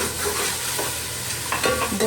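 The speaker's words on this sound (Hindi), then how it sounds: "1 से 2 मिनट फ्राई करूँगी।" Cumin, whole black pepper, crushed red chilli and salt with a splash of water fry in a pan, a close, crackling sizzle broken by a few scraping stirs.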